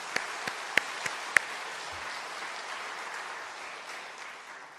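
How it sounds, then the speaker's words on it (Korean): A church congregation at an afternoon worship service applauding together, a soft, even wash of clapping with a few sharper individual claps near the start, somewhat distant and fading out. "영광의 박수 한번 올려주시면"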